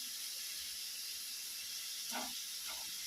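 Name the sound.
prawns sautéing in a pan for biryani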